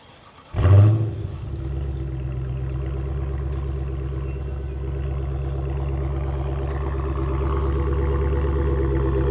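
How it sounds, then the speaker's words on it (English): A 2016 Dodge Challenger R/T Scat Pack fires up by remote start with a sharp burst, then holds a deep, steady rumbling idle close by for several seconds without talk. "we've got to use the remote start because we've got to listen to the exhaust"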